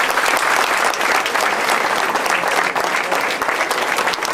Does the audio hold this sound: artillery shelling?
no